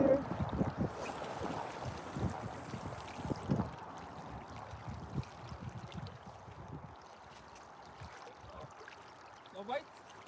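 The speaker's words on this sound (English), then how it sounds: "Wind's picking up a little more." Wind gusts blow across the Deschutes River during high water, a low steady rumble of air on the microphone with faint water sounds and a few soft knocks.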